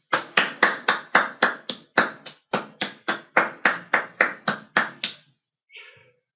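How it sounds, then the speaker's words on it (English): A round of applause for program participants at the close of an environmental and social justice presentation, heard as a series of distinct, evenly spaced sharp claps, fairly close and alone, that stop abruptly before a brief faint noise. "let's all give ourselves and our program participants one last round of applause"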